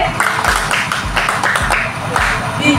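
Conference audience applauds, a steady patter of hand claps throughout with a voice audible over it.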